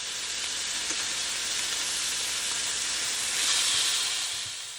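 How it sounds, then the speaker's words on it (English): Onions caramelizing in rendered bacon fat give a steady, dense hiss of frying that holds evenly for several seconds, close and unaccompanied, swelling slightly before it fades out. "just caramelize my onions and use the bacon as kind of the oil to caramelize those onions with"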